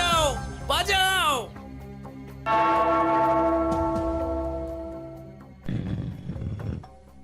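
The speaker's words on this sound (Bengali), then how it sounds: "ওই ঘন্টাটা বাজাও, বাজাও।" A bell struck in an animated cartoon rings out with a long, clear, slowly fading tone, framed by lively cartoon voices and effects just before and after.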